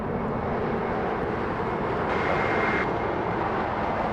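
A United Airbus airliner comes in to land at Las Vegas, its engines giving a steady, loud, broadband jet roar that swells slightly midway through, with no voices.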